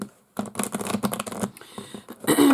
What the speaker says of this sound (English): So let us shuffle a little bit.